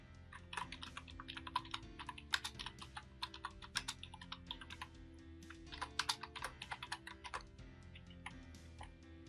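Keys clatter on a computer keyboard while Python code is typed. Crisp, close clicks come in a steady, slightly uneven stream with no voices.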